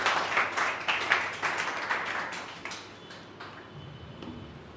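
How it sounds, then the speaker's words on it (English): Audience applause at a group discussion event in English, a burst of clapping that starts fairly loud and gradually thins out and fades over a few seconds. "Please clap for her."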